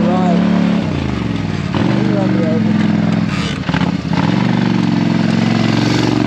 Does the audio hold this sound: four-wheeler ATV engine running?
yes